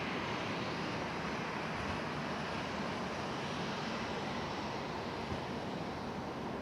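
A Breeze Airways airliner on its takeoff roll at Raleigh-Durham airport, a broad, steady, distant jet roar holding constant throughout.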